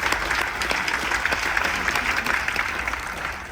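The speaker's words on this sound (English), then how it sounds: "Give a round of applause for those people right now." A crowd aboard the Carnival Dream cruise ship claps during a military tribute: a brief, dense, fairly loud round of applause that tapers slightly at the end.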